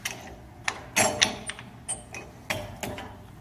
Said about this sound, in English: I'm going to slide them into this common wedge grip.